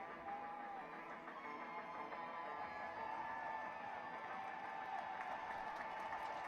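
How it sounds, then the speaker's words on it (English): Warm but restrained applause from a rugby crowd at a Bedford Blues versus Ulster match as the visiting team comes out, a faint, even wash of distant clapping across the ground. "they will be met with warm applause, but not raucous applause"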